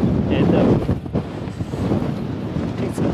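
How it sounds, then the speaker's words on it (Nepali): Strong wind buffets the microphone outdoors in Nova Scotia, Canada, in a steady low roar, with gusts rising and falling throughout. "एकदमै हावा चल्यो हजुर"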